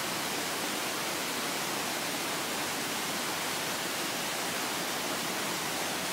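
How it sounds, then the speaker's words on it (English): The waterfall at Ambleside rushes as a steady, even wash of white noise, constant throughout with no pauses and no voices. "this is how the waterfalls looks like from here."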